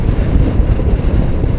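Cold night wind buffets the microphone in a steady, loud low rumble with constant fluttering, close and alone with no voices.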